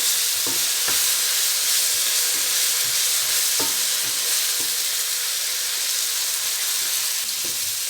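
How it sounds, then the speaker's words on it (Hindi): Masala sizzling and frying in a pan for baingan bharta, a dense continuous hiss of hot oil with scattered clicks and scrapes of stirring, close and steady, no voices. "और इसको भूनेंगे।"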